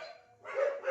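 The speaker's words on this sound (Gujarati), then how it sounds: "જો ચાલુ થયા અમારે કૂતરા, કાંઈ સંભળાવા જ ન દે" Dogs in a residential street give a short, close bark or yelp, a single quick burst of barking heard on its own.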